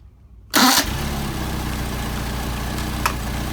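An engine fitted with multiple Solex carburetors makes a hot start: a short whirring crank bursts out at once, then catches and settles into a steady, loud, close idle with a faint blip later.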